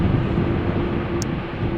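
Airliner landing in a gusty crosswind at Amsterdam Schiphol, a steady broadband roar of thrust reversers spooling up, loud and continuous without a clear peak, with no voices over it.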